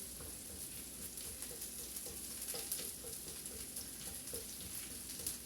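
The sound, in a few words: ginger sauteing in a pan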